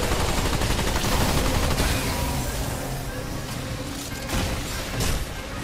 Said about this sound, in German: Ich schieße dir mal ein zweites Loch.